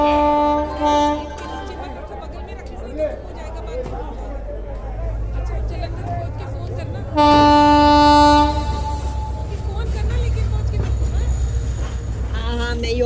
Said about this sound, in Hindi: रवाना होने वाली गाड़ी संख्या 1401 होशियारपुर एक्सप्रेस प्लेटफॉर्म क्रमांक 2 पर आ रही है।